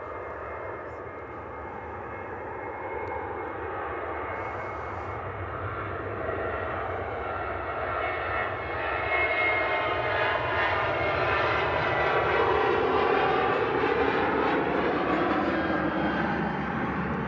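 A Ryanair jet slowly spools up its engines, a rising whine and roar that climbs steadily in pitch and grows louder over the span, heard from a distance with no talking.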